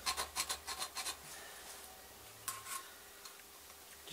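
A small hand file rasps a burr off a slot cut by a Bridgeport mill slotting head in a run of about six quick rhythmic strokes, fairly quiet and close, then a couple of softer scrapes after a pause, with no talking.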